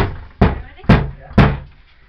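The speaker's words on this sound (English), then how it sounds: "that knocking?" Three firm knocks on a wooden door, evenly spaced and loud, each ringing briefly before the next, during a Welsh Mari Lwyd ceremony at an All Hallows gathering.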